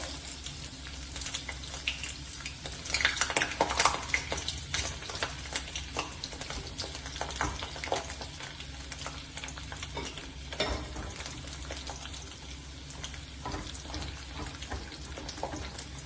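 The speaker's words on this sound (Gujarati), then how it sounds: "કટ કરેલા ચીરીઓ છે એ આના કઢાઈના અંદર ગરમ તેલમાં ફ્રાય કરી લઉં છું." Cut corn pieces fry in hot oil in a kadai over a high flame, giving a continuous crackling sizzle with bursts of popping and stirring, heard up close and alone.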